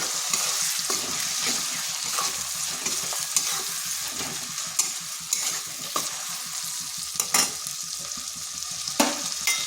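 Onion paste hits a pan of softened onions for a lentil and egg gravy, sizzling steadily up close while a spatula scrapes and clicks in an irregular stirring rhythm, with no voices.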